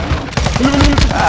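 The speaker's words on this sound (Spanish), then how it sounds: "haciendo puros tiros de cadera" Rapid bursts of hip-fired shots from an MG38 light machine gun in Call of Duty: Modern Warfare II, loud and close, with a player talking over the gunfire.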